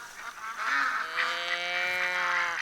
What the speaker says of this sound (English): This geese sound is doing my head in.